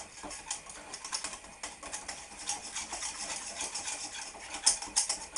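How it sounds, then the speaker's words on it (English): A metal whisk stirs flour into a sauce in a pan while making moussaka, giving a quick, steady run of light scraping clicks and taps against the pan, close and fairly quiet, with no talking. "when you're making sauce, your best friend is your whisk. Stir in the flour."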